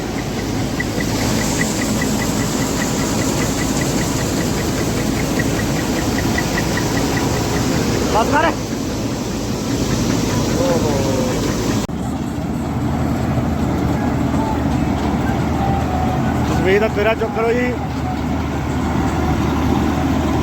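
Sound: Dashmesh combine harvester engine running

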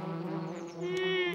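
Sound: bee buzzing while collecting flower nectar, cartoon

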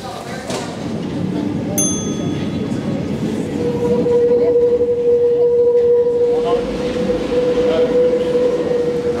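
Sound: Paris metro train

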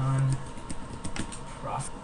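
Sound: typing on a computer keyboard

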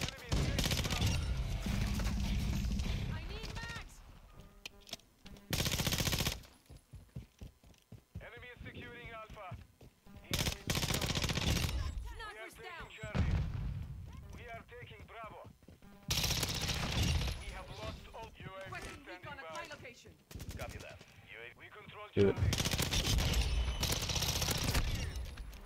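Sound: ISO 45 SMG gunfire in a video game

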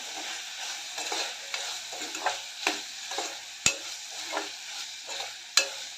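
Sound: sautéing potatoes with crushed garlic in a pan

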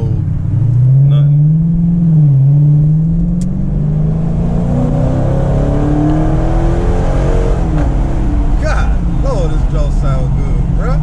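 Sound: Dodge Charger RT accelerating in a straight line

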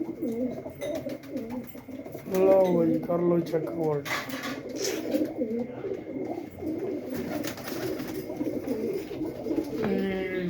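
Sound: pigeons cooing

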